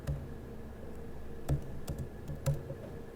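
Typing on a computer keyboard: a few sharp, separate key clicks at an uneven pace over a quiet room background, with no talking.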